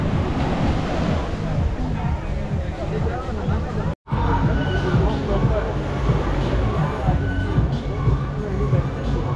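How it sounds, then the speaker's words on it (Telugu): Ocean waves breaking and washing far up the shore at Anjuna beach, a steady broad roar of surf with wind buffeting the microphone and a crowd murmuring nearby, briefly cut out midway. "అలలు ఇక్కడ వరకు వచ్చేస్తున్నాయండి, మామూలుగా రావట్లేదు, ఇక్కడ వరకు వచ్చేస్తున్నాయి అలలు."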